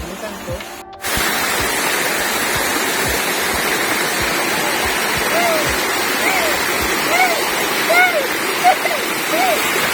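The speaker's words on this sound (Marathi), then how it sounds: "मस्त असा धबधबा तयार झालेला आहे" A monsoon-season waterfall in a forest near a village in Sangli district, Maharashtra, roars as a steady, loud rush of falling water that fills the whole scene after a brief muffled start, with faint chirping calls over it.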